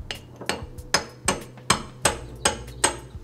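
Steady, light hammer taps on metal, about eight evenly spaced strikes with a short ringing clink after each, close up and with no talking.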